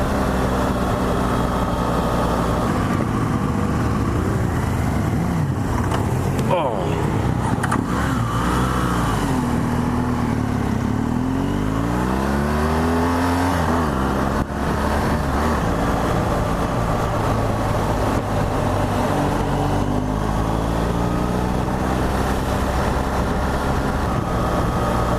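A 2015 BMW R1200GS motorcycle is ridden, its engine droning loud and continuous throughout, with pitch rising and falling as it accelerates and shifts, recorded close with steady wind noise and no speech.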